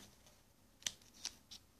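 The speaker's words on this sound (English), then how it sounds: "I am going to snip it. Just snip it." A few quiet, crisp snips, three short cuts spaced apart, close by, with faint rustle between them.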